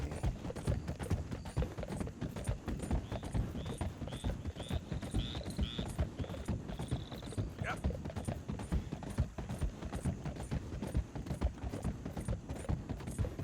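Steady rhythmic clip-clop of horse hooves while riding in the video game Red Dead Redemption 2, continuous and fairly close, with a brief whinny partway through and someone talking over it.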